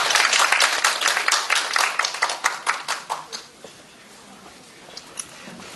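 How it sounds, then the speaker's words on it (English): Audience at a ChangeMakers ConFest dialogue session claps in a dense burst of applause that thins into a few scattered claps and fades to quiet room tone. "a round of applause again."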